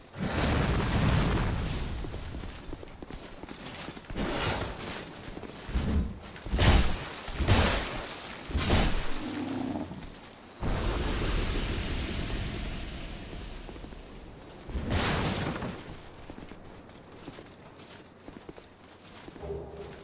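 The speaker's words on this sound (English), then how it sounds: "this one will definitely do pyromancy attacks" Undead jailer enemy in Dark Souls 2 casting pyromancy attacks, a series of heavy booming fire bursts and impacts with rumbling roars, including a long sustained whooshing blast midway, fading into quieter ambience at the end.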